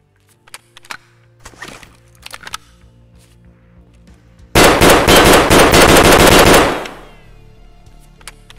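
A Saiga 12 shotgun in Escape From Tarkov fires a fast, loud burst of shots lasting about two seconds, after a few faint scattered clicks and thuds.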